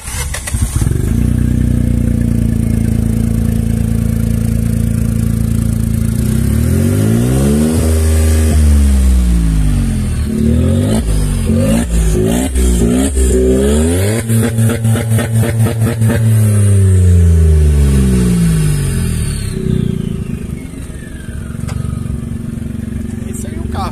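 A Volkswagen Up TSI Stage 3 engine revs loudly and up close, climbing and falling through several sharp blips in the middle, with voices talking over it.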